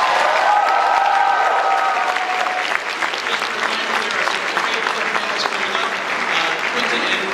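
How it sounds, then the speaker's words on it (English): Audience applause fills a voice actors panel at an anime convention, a steady, dense clapping from a large crowd that carries on for several seconds without talk. "another round of applause for our wonderful voice actors"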